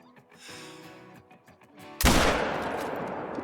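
A single sharp, loud long-range rifle shot in the hunting game Call of the Wild, fired at a sika deer, cracking out after quiet ambient sound and rolling off into a long echoing tail.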